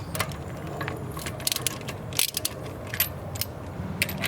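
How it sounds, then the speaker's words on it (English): A ratchet with a 21mm socket and extension working on the rear brakes of a 2019-2026 Lexus UX, heard as irregular metallic clicks and clanks, close and sharp, with short pauses between bursts. "21mm socket, guys. And I'm using the extension as well."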